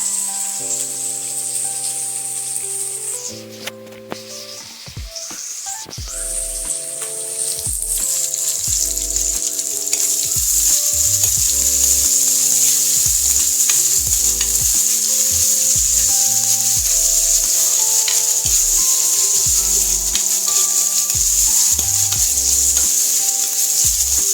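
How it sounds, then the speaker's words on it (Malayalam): Crab curry fries in a pan with a loud continuous sizzle, while a utensil scrapes and stirs in repeated strokes throughout; no one speaks. "നന്നായിട്ട് ഇളക്കുക കുറച്ച് ഉപ്പിട്ട് കൊടുക്കാം നമുക്ക്"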